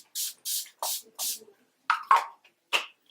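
Four quick hissing sprays in a steady rhythm from a bottle of Urban Decay Chill makeup setting spray close by, followed by a few softer clicks and short spritzes.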